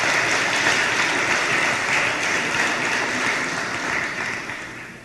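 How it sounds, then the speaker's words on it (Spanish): A church congregation claps together in sustained, dense applause, loud and continuous before tapering off slightly at the end, with no talking over it. "Dale palmas al Señor en estos momentos."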